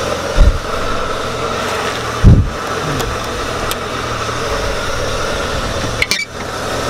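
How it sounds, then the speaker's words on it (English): A BMW E36 idling roughly: a steady, close engine drone that stumbles and thumps unevenly, with a few low bumps and brief wavers in its tone and no talk over it. "Now the idle is a little bit jumpy."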